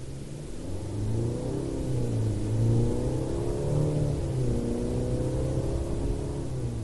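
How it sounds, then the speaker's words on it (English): A 2023 Mercedes GLC 300 accelerating gently, its engine note a steady, moderately loud low hum with rising harmonics heard from inside the cabin, continuous for several seconds with no talk. "Even when you're accelerating more gingerly, like I just was, that torque really propels you forward in a really nice way."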